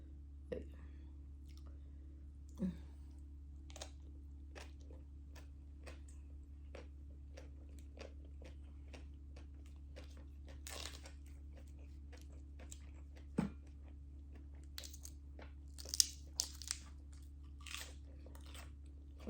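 Someone eating som tam (papaya salad) in the evening, with faint, scattered crunchy chews and mouth clicks over a low steady hum, a few louder knocks along the way, and no clear talking.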